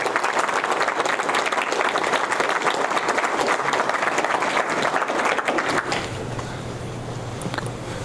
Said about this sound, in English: So I think Pete, Stephanie, Jim, all these people need a big round of applause for what they've done for the club.